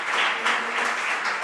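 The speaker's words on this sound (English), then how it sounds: "And now I would like to ask for your applause for" An audience applauds panelists at a progressive forum, a brief burst of steady, fairly loud clapping throughout.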